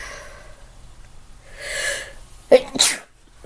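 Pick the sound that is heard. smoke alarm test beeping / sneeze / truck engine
sneeze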